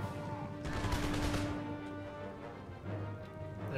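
Musket volleys in Empire Total War crackle as dense, overlapping distant gunfire, with a thick burst of shots building early and then thinning into scattered pops over a continuous battlefield din.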